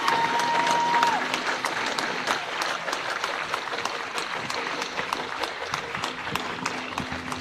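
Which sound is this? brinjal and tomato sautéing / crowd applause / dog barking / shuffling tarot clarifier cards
crowd applause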